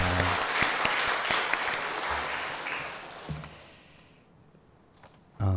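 A church congregation claps warmly for several seconds, the applause gradually thinning and fading out near the end.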